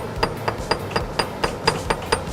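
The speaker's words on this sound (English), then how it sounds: "then we're gonna hammer it." A rapid, even series of about ten sharp metallic taps from a small hammer on a metal earring, each with a bright ringing clink, close up and with no voices.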